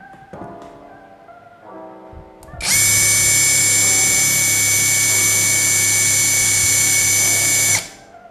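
A BITEC BIW R3250-NC impact wrench on its small setting spins up after a few clicks and tones, then holds a loud, high, steady whine for about five seconds before cutting off sharply.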